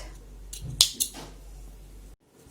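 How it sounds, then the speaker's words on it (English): Scissors snipping through crochet yarn, a couple of quick close crisp cuts around the middle, then quiet. "Now cut it."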